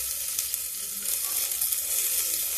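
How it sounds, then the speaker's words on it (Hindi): Finely chopped onion fries in a pan, giving a loud, close, steady sizzle with no talking over it. "ये प्याज डालते हैं, बारीक बारीक कटा हुआ।"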